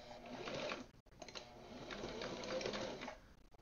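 A sewing machine stitching fabric for a belt pocket runs in steady, fast buzzing bursts, pausing briefly and then continuing; it is close but quiet, with no voice over it.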